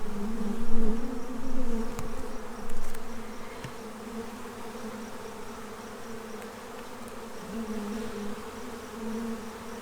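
A Saskatraz honeybee colony hums with a steady buzzing drone as a hive box is handled during an inspection. Close wing noise sustains throughout, swelling louder in the first three seconds, with faint bumps and clicks from the handling.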